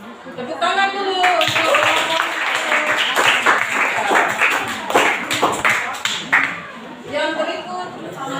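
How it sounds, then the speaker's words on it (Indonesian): Classroom students clap together in a short burst of applause, the claps crisp and close, under and between a teacher's voice and some chatter. "Tepuk tangan dulu."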